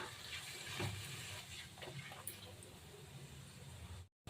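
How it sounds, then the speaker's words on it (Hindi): Water is poured into a spice mixture in a cooking pan for a fried aubergine and potato dish, a soft, steady pouring with faint splashes nearby before it cuts off abruptly. "अब इस टाइम पर हम इसमें थोड़ा सा पानी ऐड कर रहे हैं"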